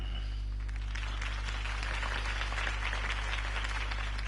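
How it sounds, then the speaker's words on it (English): Crowd applause after a campaign speech in the Telltale Batman video game, a dense steady patter of clapping held at a moderate, even level over a low constant hum. "If only Mr. Wayne, my campaign's largest backer, could have heard that applause"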